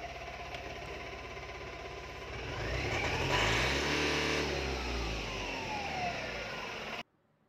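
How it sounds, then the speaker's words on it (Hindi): A Tata Intra V10 pickup truck engine idles steadily with a warning fault light on, then rises in a brief rev and settles back into a steady drone before cutting off abruptly. "अभी ये गाड़ी स्टार्ट है"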